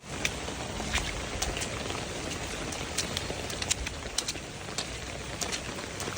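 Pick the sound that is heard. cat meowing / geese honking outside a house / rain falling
rain falling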